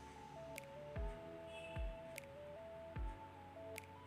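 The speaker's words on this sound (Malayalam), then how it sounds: "നമുക്കിനി ഇതിലേക്ക് കുറച്ച് കുറച്ച് വീതം വെള്ളമൊഴിച്ച് അതിൻ്റെ കൺസിസ്റ്റൻസി ഒന്ന് റെഡിയാക്കി എടുക്കാം" Water is poured into soaked semolina (rava) idli batter and mixed in, giving a few soft, wet squelches at uneven intervals, close and quiet over a faint steady tonal hum.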